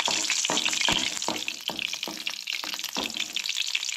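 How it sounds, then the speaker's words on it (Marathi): Garlic roasting lightly in heated oil, a close, steady sizzle broken by repeated soft scraping strokes of a spoon, with no talk over it. "आतां भितर एड करूया ती म्हटल्यार लसूण सो लसूण म्हणटा तशी हलकीशी भाजून घेवंक जाय"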